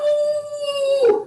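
A person imitates a wolf howl with one long, steady sustained tone that bends and breaks off at the end, loud and close with no other sound.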